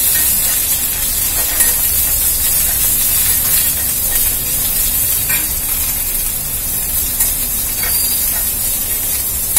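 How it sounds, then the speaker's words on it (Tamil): Ridge gourd peel sautéing in a hot pan with salt, a continuous close sizzle and hiss with faint stirring scrapes throughout. "அதனால நல்லா வதக்கிடுங்க"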